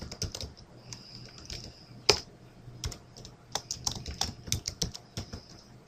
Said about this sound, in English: We're going to type in Tang Davis.